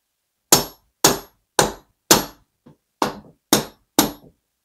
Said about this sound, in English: we're going to hit these bolts with a hammer to dislodge that press fit